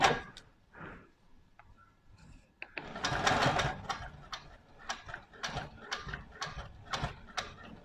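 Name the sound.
sewing machine stitching fabric with quarter inch square foot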